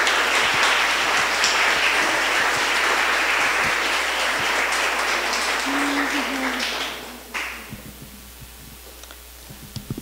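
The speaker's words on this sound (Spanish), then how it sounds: "Damos un aplauso al doctor" Audience applause at a university symposium fills the hall steadily for about seven seconds, then fades into scattered claps and low room noise, with a faint hum throughout.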